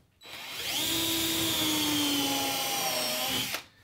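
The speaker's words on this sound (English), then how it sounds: "I'm just going to very carefully drill some holes" A power drill spins up, drilling holes in wooden lapstrake planking on a dory under construction, runs at a steady high whine for about three seconds, then stops abruptly, close and loud.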